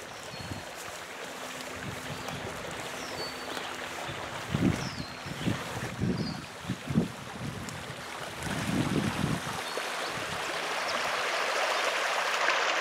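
A small stream flows beside a wild-plant foraging walk, a continuous watery rush mixed with wind buffeting the microphone and several low thumps midway, with no talk.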